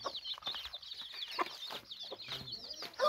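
Chickens clucking in an African village yard, a hen with her chicks, steady overlapping clucks and chirps close by with scattered rustling underneath.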